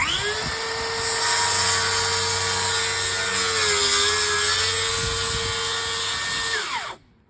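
A power drill bores holes in a cut panel for a Pac-Man arcade cabinet, a loud, steady high-pitched whine held for about seven seconds before winding down abruptly.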